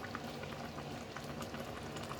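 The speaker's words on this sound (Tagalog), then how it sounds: "Right, kumukulo na siya ng husto." Chicken and vegetable soup boils hard in a pot, a steady bubbling hiss with small irregular pops and crackles running continuously at a fairly quiet level, no voices.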